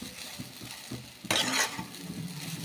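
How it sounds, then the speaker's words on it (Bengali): Kuli pitha, a Bengali sweet, fries in a pan with a faint close crackle and soft stirring taps, and one brief louder sizzling burst in the middle. "ভেজে নিচ্ছি এটাকে ভালো করে।"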